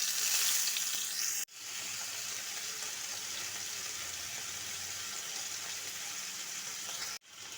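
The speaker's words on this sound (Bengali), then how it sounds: "প্যানে সর্ষের তেল গরম করে চিংড়ি মাছগুলো ভেজে নিতে হবে।" Prawns fry in hot mustard oil in a pan, giving a steady, close sizzle that runs unbroken through the clip, with two short cuts where the sound drops out.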